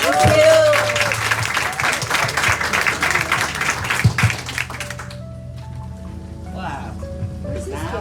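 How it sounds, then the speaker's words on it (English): Audience applause at an Atomy business event in Miami, a crowd clapping loudly at first with voices talking over it, then thinning into scattered claps as speech and background music continue. "let's give him another big applause"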